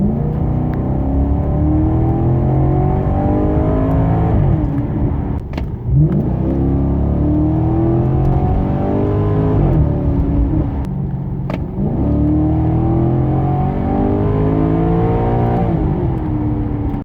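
A Maserati GranTurismo 4.2 V8 with a six-speed ZF automatic revs repeatedly, loud and close, its engine climbing and falling in several throttle blips with a burbling, rich roar and no talking.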